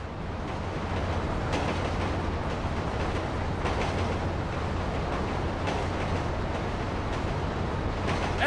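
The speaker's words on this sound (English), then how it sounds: "Train ain't stopping here, boys!" A train rumbles steadily past in the GTA V video game, a continuous dense roar with faint rhythmic clatter that holds at a constant loudness throughout.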